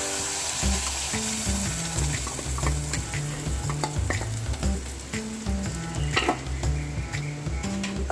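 Green chilli paste frying in a pan for a Goan chilli curry, a steady close sizzle with repeated scraping stirs and a low tonal hum underneath, no talk.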